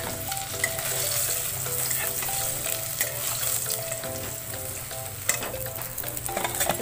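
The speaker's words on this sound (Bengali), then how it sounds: "মাছগুলো একটু লাল লাল করে ভেজে নিতে হবে এইভাবে" Pieces of rohu fish fry in hot oil for a kalia curry, giving a dense, steady sizzle that stays loud and even throughout with no one speaking.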